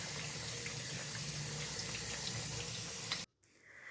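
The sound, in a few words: washing cooked ada in colander under cold tap water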